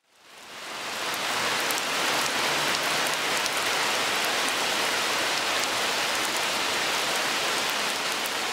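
Steady, dense rain pours down outdoors during a peace rally calling for a ceasefire, a continuous close hiss of drops hitting surfaces that rises at the start and holds evenly throughout, with no voices.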